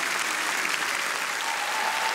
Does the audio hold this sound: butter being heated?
no